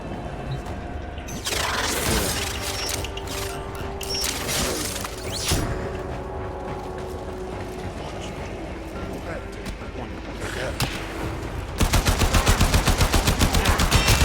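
Gunfire in the video game Warframe, with bursts of rapid automatic shots and single cracks spread through the clip and a dense, loud volley at the end, under game effects and someone talking excitedly.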